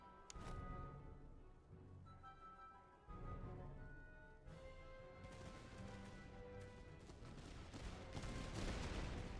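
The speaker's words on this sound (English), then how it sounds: "I got cannons firing at me" Cannons fire in a video game battle, heavy shots and volleys booming loudly and repeatedly over a constant rumbling din of combat, with no talking.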